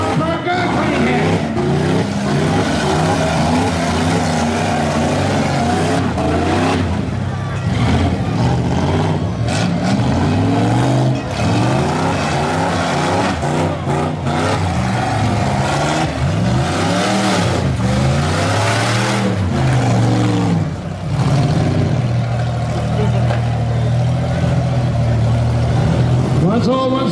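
Full-size stock class cars at a demolition derby in Barrie roar and rev loudly and continuously, engines surging and straining with harsh crunching impacts mixed in, an announcer talking over the din throughout.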